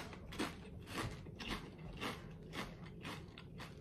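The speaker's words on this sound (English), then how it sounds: "kettle chip crunch, so that's really good" Crisp, repeated crunching of Lay's chili cheese kettle chips being chewed, several close bites in a steady rhythm with no talking.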